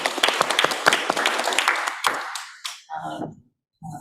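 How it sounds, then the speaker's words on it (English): Scattered applause from a small audience at a library commission meeting, several seconds of hand claps that taper off and stop. A few brief voices follow. "we can applaud and thank him for all that he's done"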